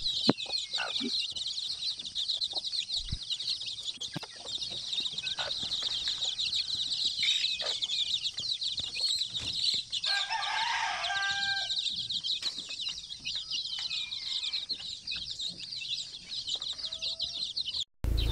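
Native hens cluck softly among constant high-pitched insect or bird chatter outdoors, with one louder burst of clucking midway.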